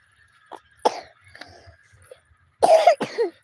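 A child coughs in several short bursts, a couple of quiet ones first, then louder harsh coughs close by near the end.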